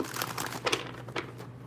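Tarot cards being shuffled by hand at close range: a few quick papery riffling and crinkling bursts with short gaps between them, and no voices.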